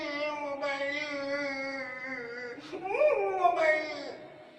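A voice imitates a crying baby, a sustained nasal wail that breaks into rising and falling sobbing cries, loud and close.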